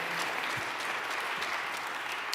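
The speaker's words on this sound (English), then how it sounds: "can we have a round of applause for all the folks that led us through the" A church congregation at Judson Memorial Church applauds during a Sunday service. Steady, even clapping from many hands fills the room throughout, at a moderate distance.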